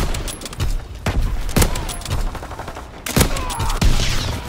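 Suppressing gunfire in the WWII shooter Call of Duty WWII during a bridge battle: dense, overlapping rifle and machine-gun bursts crack loudly and continuously, with sharper heavy shots punching through about every second.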